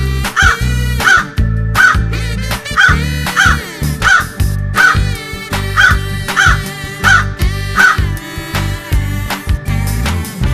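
Loud, harsh crow caws repeat about once a second, close by and strongly rhythmic, with no other sounds competing.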